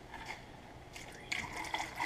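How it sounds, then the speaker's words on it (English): Apple cider vinegar pours into a 2-gallon crock of fermenting sweet pickles, a quiet continuous splashing trickle that brightens and gurgles more toward the end. "So the next step is to cover them with vinegar and let them sit for 6 hours."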